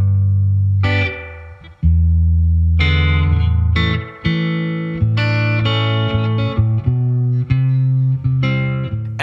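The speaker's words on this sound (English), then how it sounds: "That first guitar there, that's my Reverend Jetstream, and I set the pedal for lots and lots of reverb" A Reverend Jetstream electric guitar plays through a pedal set for heavy spring reverb, loud plucked notes and chords ringing out in a slow, uneven phrase with a long washy tail.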